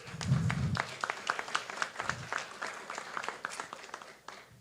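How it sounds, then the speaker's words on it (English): An audience applauds with steady, crowded clapping that fades slightly toward the end, a brief low murmur mixed in at the start. "Big applause again, please."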